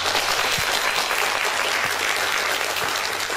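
Gloved hands applauding outdoors at a patriotic poetry recital in Seoul's Seodaemun Independence Park, a dense, muffled, steady patter of clapping throughout.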